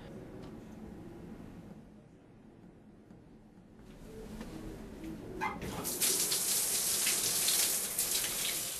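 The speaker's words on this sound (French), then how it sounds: "Allez, une bonne douche" A shower runs, starting softly and then rising to a loud, steady hiss of spraying water that continues without pause, close by and without talk.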